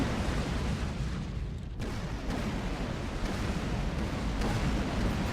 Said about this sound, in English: Explosions are really loud.